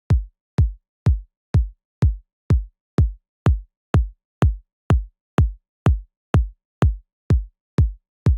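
A deep, rounded, soft minimal house kick drum thumps at a steady, even tempo, roughly two hits per second, repeated many times with nothing else playing.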